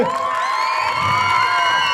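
A camp crowd at a Turkish Red Crescent Çamkoru camp's farewell fire night cheers and whoops loudly, with a bright wash of voices and shouts over a short, sustained burst.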